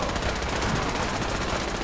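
Rapid automatic gunfire in the video game Fallout 4 during a large firefight, a dense continuous rattle of shots with no breaks, loud and close throughout.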